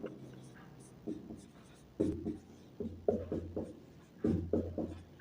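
Pen scratching on paper while a math solution on area and perimeter is written out by hand, short scribbling bursts in irregular strokes, close and fairly quiet.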